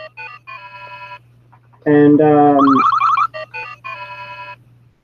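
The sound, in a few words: mobile phone ringtone ringing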